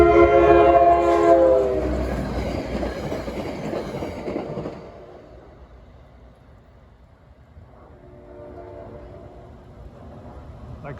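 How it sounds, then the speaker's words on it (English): A passenger train hauled by an Alstom PL42AC locomotive sounds a loud, sustained horn with several tones for the first few seconds, then the rumble of the passing train fades to a lower roar with faint wheel clatter. "maybe a PTC test train powered by a PL42AC from Alstom"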